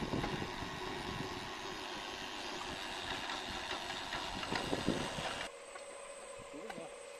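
A DIY cultivator's asynchronous electric motor, fed by a frequency drive, runs with a steady mechanical hum and rattle, then drops to a quieter whine partway through as the speed changes.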